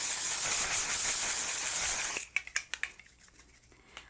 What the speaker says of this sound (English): I did use my favorite One Size Mattifying Until Dawn setting spray